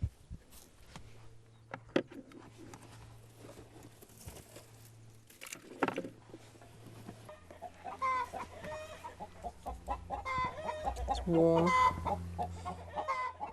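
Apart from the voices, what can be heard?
hens clucking in a dome-shaped chicken coop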